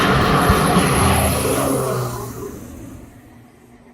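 An airplane taking off from Kuala Peluang airport, a loud engine roar that is strongest at the start, then fades steadily as it climbs away into the distance, with no voices.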